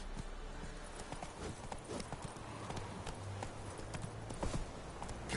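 Roach the horse from The Witcher III trots with a steady clip-clop of hooves, moderately loud and close, over a constant low game ambience.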